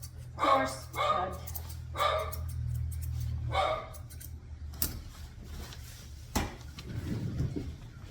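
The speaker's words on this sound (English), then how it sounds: "doing dog grooming videos without hearing some barking once in a while" A small Morkie barks during a grooming session, four sharp yips in quick succession early on, then a few fainter yaps and rustling handling noises later.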